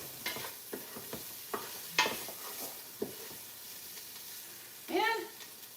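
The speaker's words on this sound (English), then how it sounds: "The smell of cooking onions with garlic, the absolute best smell in the world." Onions and garlic sizzle quietly in a pan, a soft steady hiss broken by scattered clicks and scrapes of stirring, with a brief voice near the end.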